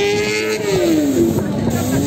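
Rally cars pull away after a collision, one engine note sliding downward as it drives off, loud and close, with a commentator talking over the engines throughout.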